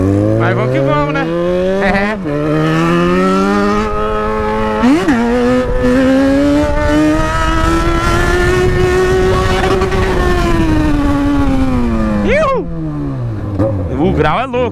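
A Yamaha XJ6 motorcycle rides through traffic, its engine note rising through a long gear, holding, then falling off, with quick rev blips around it, close and loud, while a rider talks over it.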